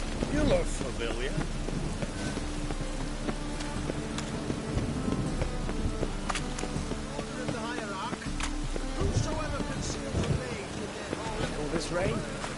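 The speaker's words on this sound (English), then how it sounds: "The storm, damn it." A storm in The Witcher 3 brings steady, dense rain and low rolling thunder throughout, with voices speaking faintly underneath.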